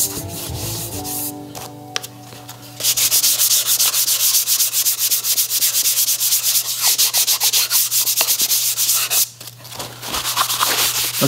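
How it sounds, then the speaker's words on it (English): Sandpaper of 320 grit rubbing over the wooden body of a DIY guitar kit, a steady rasping scrape in continuous strokes that grows louder and denser after the first few seconds, with a short pause near the end. "okay, so I've just done my first sanding with the 320"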